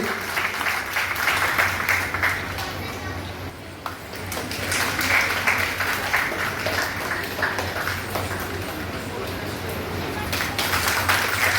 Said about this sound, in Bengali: চাই সকলকে জোরে করতালির মাধ্যমে অতিথিদেরকে বরণ করবার জন্য আহ্বান জানাচ্ছি